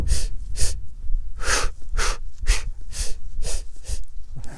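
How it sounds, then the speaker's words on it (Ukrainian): Sharp, loud breaths in a running breathing demonstration, done the wrong way with a pause: paired quick inhales, a gap, then paired exhales, repeating in a steady rhythm with no talking. "Вдох, вдох, пауза, видих, видих."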